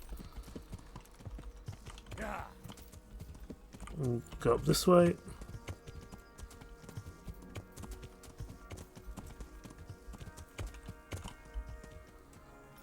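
Horse hooves clip-clop at a walk in the medieval game Kingdom Come: Deliverance, steady and fairly quiet under someone talking.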